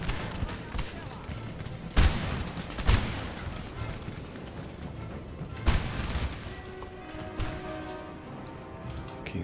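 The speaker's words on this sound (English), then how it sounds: "you just give those guys volleys as they run" Musket volleys in Napoleon: Total War, scattered sharp cracks with a few louder shots near 2, 3 and 5.7 seconds over a constant battle rumble, and someone talks over it.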